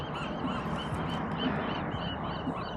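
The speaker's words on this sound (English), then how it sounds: "Seagulls are going nuts here." Gulls cry repeatedly over a dense, steady wash of background noise, their calls close together and fairly loud.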